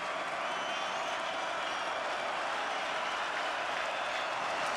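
A stadium crowd roars steadily at a college football game between Western Kentucky and Boston College, fans on their feet for a third down, a dense, unbroken wall of cheering and clapping throughout.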